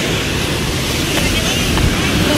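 Ocean waves wash along the rocky shore near a lighthouse in Maine, a loud continuous surf rush with heavy wind buffeting the microphone.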